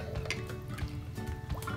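Plastic Lego pieces dropped into a container of water, a few quick splashy plops and drips, close and quiet.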